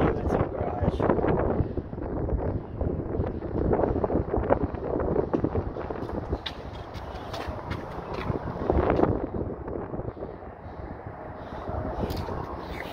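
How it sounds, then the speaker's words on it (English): Strong wind buffets the microphone of a cyclist riding into a headwind beside a bayou, a continuous loud rumbling roar with gusty swells throughout. "pedaling against this wind, no joke."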